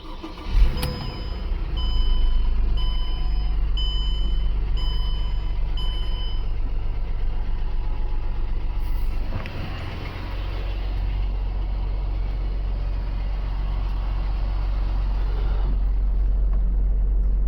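A Mercedes E350 engine runs steadily at idle after a fuse box replacement, a continuous low hum with a short burst of noise near the start and a slight dip midway, close and without speech.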